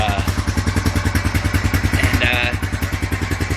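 Honda Foreman 450 ATV engine revving with its exhaust baffle and spark arrestor rotted out, giving a loud, close, rapidly pulsing bark that holds steady throughout.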